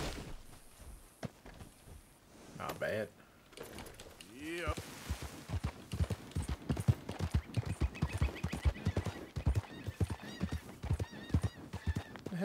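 Horse hooves clip-clop in Red Dead Redemption 2, first at a slow walk and then in a quick, steady gallop rhythm, close and prominent, with a brief whinny early on and a voice urging the horse along.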